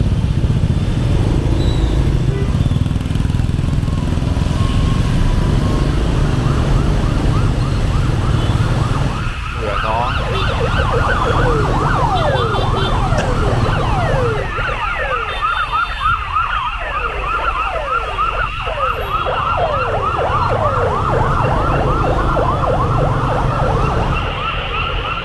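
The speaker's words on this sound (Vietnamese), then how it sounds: "Đấy chứ mọi người né ra để nhường đường cho xe cấp cứu á" An ambulance siren wails loudly through busy night traffic on a Saigon street in Vietnam, its rising and falling tone sweeping repeatedly over steady engine and motorbike rumble as it passes close by.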